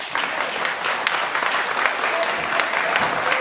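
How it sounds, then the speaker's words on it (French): Loud, dense crowd applause at a political party rally, steady and sustained with scattered cheers throughout. "On applaudit fort."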